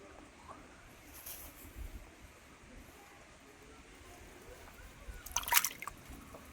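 Something is washed in water, likely arrowroot being cleaned: faint trickles and drips over a low background, with a louder, brief splashing burst near the end.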